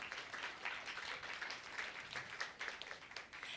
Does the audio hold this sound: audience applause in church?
yes